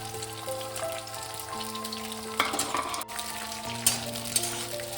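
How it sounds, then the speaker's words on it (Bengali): Green beans fry in hot oil in a pan, a steady close sizzle and crackle with occasional louder stirring scrapes and bursts, no voices. "আগে আমি বিনসটাকে একটু হালকা করে ভেজে নেব"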